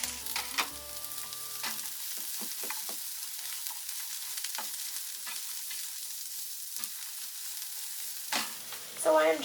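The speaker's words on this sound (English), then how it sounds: "I am just occasionally moving around our cabbage to make sure that it is browning evenly" Cabbage fries in a pan with a continuous crackling sizzle, and a utensil occasionally scrapes and stirs it. The sound stays close and even throughout, with no one speaking.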